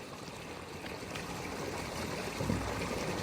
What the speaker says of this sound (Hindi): देखिएगा अभी प्रेशर से पानी आएगा।